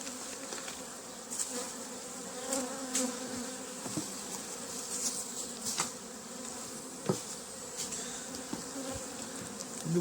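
Honey bees hum steadily around an open hive during spring apiary maintenance, a dense continuous buzz with individual bees passing close now and then, plus faint knocks and handling noises from the hive work.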